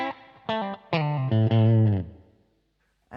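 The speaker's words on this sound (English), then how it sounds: "This is the room reverb." Overdriven electric guitar through a DSM & Humboldt Dumblifier overdrive pedal with its room reverb engaged: a few picked notes and a sustained chord ringing out, then decaying into a short room-like tail before silence.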